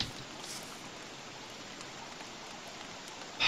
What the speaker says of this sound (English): Rain is still going.